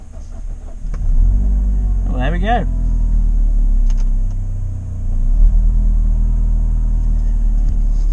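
A small car engine catches after the ignition is turned and settles into a steady, close rumbling idle while someone talks over it.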